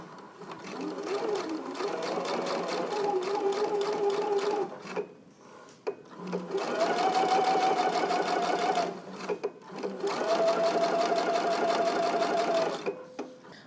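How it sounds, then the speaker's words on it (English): A sewing machine stitches close to the edges of belt loops in three loud, steady whirring runs, each a few seconds long, separated by short pauses as the fabric is repositioned. "I'm going to begin stitching on this side here, and I'm going to stitch again close to the edge."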